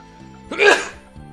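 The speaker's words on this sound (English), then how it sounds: "Sneeze is coming." A single sudden human sneeze erupts loud and close, sharp and explosive, with a man's quiet speech just before and after it.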